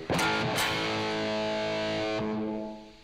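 Electric guitar fitted with a Solo Dallas T-top replica bridge pickup, played through heavy distortion: a loud, sustained saturated chord is struck and rings on alone before cutting off.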